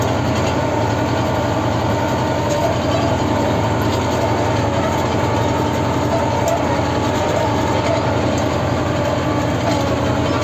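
Loud, continuous mechanical roar of two tractors with a heavy low rumble and dense clatter, steady from start to finish with no pauses or voices.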